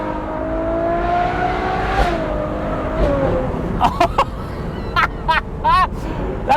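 Ferrari 812 GTS fitted with a Novitec exhaust, its V12 revving in a rising sweep then settling, followed by several sharp, loud blips and throttle pops, close and prominent with no talking.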